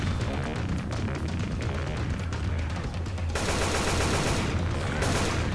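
Continuous rapid gunfire from Left 4 Dead 2, loud and dense throughout, shifting to an even harsher burst partway through with no talk over it.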